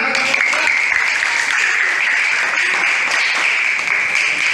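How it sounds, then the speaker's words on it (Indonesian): Steady, dense applause from students in a classroom after a group presentation in an Islamic religious education lesson, continuous and fairly loud throughout. "beri tepuk tangan"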